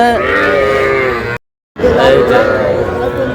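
A young bull calf bellows and bleats at a cattle farm in Comilla, loud and close, with a brief silent gap midway before the calling resumes.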